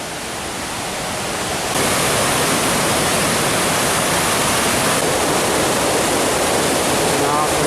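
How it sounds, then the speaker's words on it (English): Buttermilk Falls in the Algonquin Highlands pours down in a loud, steady, close rush of falling water that grows slightly stronger and then holds, with no talking over it. "Distance is the falls, coming all the way down, and see, continues on here."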